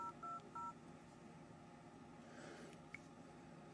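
Dialer keypad tones on a Samsung Galaxy S2 smartphone, a few short clean beeps near the start, faint and thin over a quiet background hiss, with no talking.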